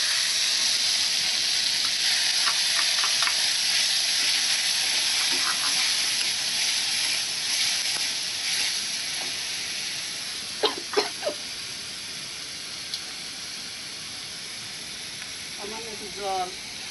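Garlic and four green chilies fry in white oil in a wok with a loud, steady hissing sizzle that gradually eases, with a few clinks of a utensil and someone talking over it.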